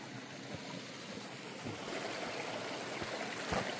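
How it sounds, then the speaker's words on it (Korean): A clear mountain valley stream in a cold winter ravine flows steadily, a close, continuous rushing babble with small splashes, no voices. "어떤 분들은 계곡 물소리가 시끄럽다고 하시는 분들도 있거든요"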